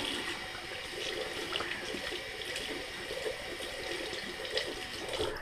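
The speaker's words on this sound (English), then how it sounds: "just some water in this brush and I will load it up here" Water runs steadily from a tap onto a shaving brush before a shave, a continuous close hiss and splash that holds at an even level throughout with no talking.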